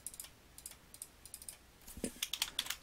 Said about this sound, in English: So you would just have to type these numbers in.